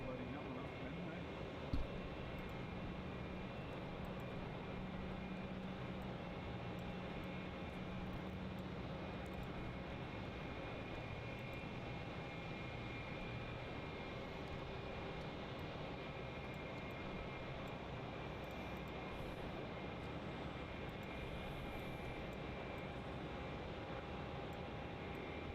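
Aircraft engines drone at Melbourne Airport, a steady distant roar holding constant with a faint whine, while someone talks over it throughout.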